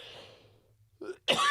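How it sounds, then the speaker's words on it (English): A single short, harsh cough bursts out close by after a brief quiet stretch, preceded by a smaller throaty sound. "little bit of a cough, sorry"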